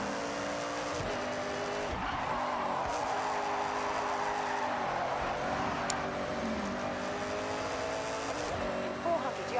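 Mazda Miata in the racing game Forza Horizon, engine droning under steady throttle with shifting tones, tires squealing and skidding through corners over several seconds, a brief sharp click along the way.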